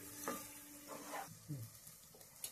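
Masala of ginger-garlic paste frying in oil for snail curry, faint and low, with a few soft stirring scrapes over a light sizzle.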